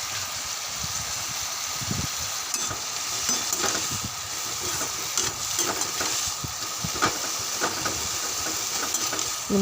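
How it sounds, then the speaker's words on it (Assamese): Onions fry in hot oil in a pan, a loud continuous sizzle heard up close with stirring scrapes and occasional pops, no voices over it. "ভাজিবলৈ তেলতে পিঁয়াজ অকণমান দি লৈছোঁ।"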